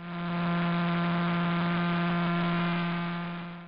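A steady, buzzing electronic tone from millisecond pulsar PSR J0437-4715's signal converted to sound, individual pulses merged into one tone, with a strong low hum and layered overtones, constant throughout with a smooth fade in and out.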